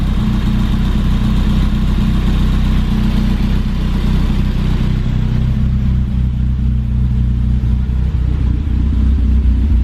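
A BMW E30 M3 engine idles steadily up close after a cold start, a low even rumble with no voices or revving, holding the same throb throughout.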